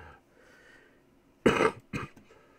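A person coughing in a short fit, two harsh bursts close to the microphone after a quiet stretch.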